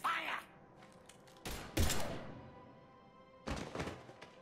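Gunfire in the video game Mass Effect 3, with a couple of heavy thumping bursts spaced apart amid quieter gaps, punchy and close.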